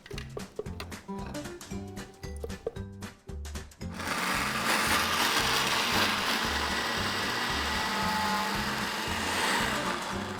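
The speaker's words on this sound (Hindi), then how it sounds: "डालेंगे इस ब्लेंडर में" A blender starts up and runs with a loud, steady whirring grind through cooked tomatoes after a few seconds of clattering and handling sounds.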